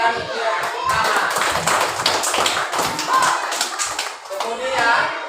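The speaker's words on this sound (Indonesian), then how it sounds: "Berikan dia tepuk tangan." A classroom of children clapping together for a classmate, a dense patter of hand claps running the whole time at steady loudness, with voices mixed in.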